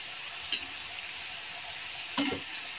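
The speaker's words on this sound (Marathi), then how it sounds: "आणि कमी गॅसवरतीच थोडंसं तळून घ्यायचं 2-3 मिनिटं" Bitter gourd slices fry gently in oil on low heat, producing a soft, even sizzle with two brief clinks of a utensil against the pan.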